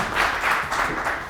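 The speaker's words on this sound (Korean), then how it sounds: "힘찬 박수 모시겠습니다." Audience applause greets a lecturer at a packed union education session, a steady wash of clapping from a crowd filling the whole moment, fairly loud with no voices over it.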